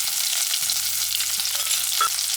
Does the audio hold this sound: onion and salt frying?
yes